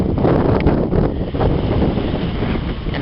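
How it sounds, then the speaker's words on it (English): Wind blows hard at a lagoon beside a campground, buffeting the microphone in a loud, continuous rumbling roar with brief gusty swells. "It's kind of windy today"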